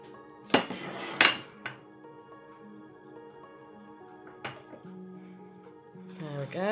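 A spatula scrapes Himalayan black salt soap batter from a pot in a few sharp metallic scrapes and knocks, close by, with quieter clinks between them.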